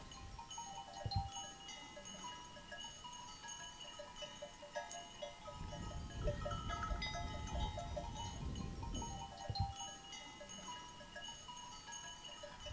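An evening flock of sheep returning home, heard as faint, scattered clinking of animal bells over a quiet outdoor background, with a soft rumble of hooves and movement in the middle stretch.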